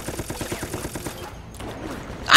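Rapid gunfire bursts in the shooter game Resident Evil: Operation Raccoon City, a quick rattling volley that stops, then a short loud blast at the end.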